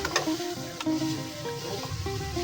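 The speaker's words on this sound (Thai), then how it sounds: "ขัวไก่กับเครื่องให้มันเข้ากันครับ" Chicken stirring and scraping with spices in a hot pan for a Thai Isan curry, a steady sizzle close by, with occasional clinks of a utensil against metal.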